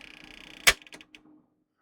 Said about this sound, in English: That's the counter belt making clicking noises.